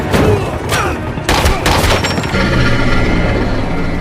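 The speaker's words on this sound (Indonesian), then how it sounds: "Dia pun terlibat aksi tembak-menembak dengan anggota Red Mountain yang berjaga di luar." Rapid bursts of gunfire in a film shootout outside a building, loud sharp volleys crowding together in a dense fusillade with booming echoes, continuing steadily throughout.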